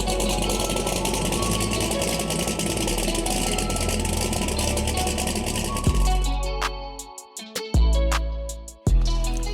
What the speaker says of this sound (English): 1200 horsepower turbo Trans Am, 91 millimeter turbo, 388 cubic inch LS on Holley EFI